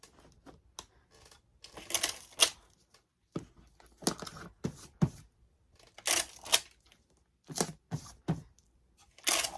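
Adhesive tape being pulled and torn while plush toys are taped together for a jumbo gift, heard as repeated close bursts of tape stripping, separated by short pauses.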